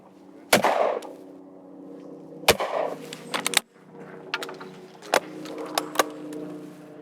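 A Browning B525 over-and-under shotgun is fired at clay targets outdoors: five sharp, loud blasts at uneven intervals, each followed by a brief rumbling echo.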